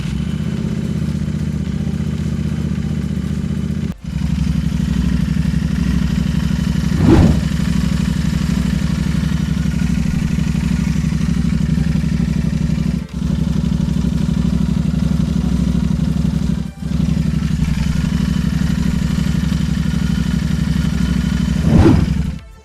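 A freshly serviced Royal Enfield Continental GT 650 parallel-twin engine runs steadily at idle, loud and close, with a few brief dips and throttle blips, no voices.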